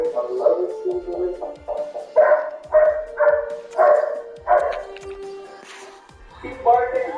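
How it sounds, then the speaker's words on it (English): A dog barks in a run of loud, close, rhythmic bursts, with short gaps and a few whimpering yips between them. "Keep barking."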